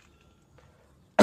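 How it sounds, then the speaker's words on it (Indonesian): A person lets out one short, sharp cough at close range right at the end, after a stretch of near silence. "maaf batuk"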